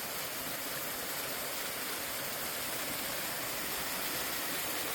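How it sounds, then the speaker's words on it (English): A small waterfall gives a steady, even rush of water, dense and hissing like broadband noise, constant from start to finish with no voices over it. "check out this waterfall."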